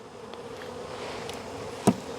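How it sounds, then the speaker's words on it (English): Honey bees stirred up during a beekeeping mite check give off a faint, steady insect buzz, with one brief sharper burst near the end and no talking. "it irritates the bees a little bit"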